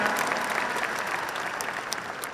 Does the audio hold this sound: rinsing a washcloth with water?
no